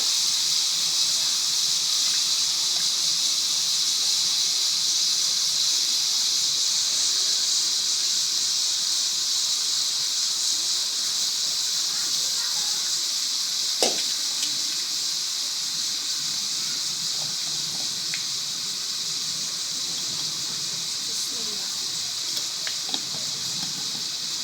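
Papaya boiling in a pot gives off a steady, loud steam hiss that runs unbroken throughout, with a few faint clicks and no voices.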